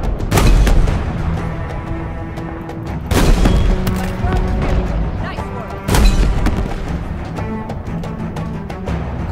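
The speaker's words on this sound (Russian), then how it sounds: "Кого-то там рвануло." Explosions and heavy weapons fire in the Halo Infinite video game during a tank battle, with loud booming blasts around 0, 3 and 6 seconds over continuous rumbling combat noise.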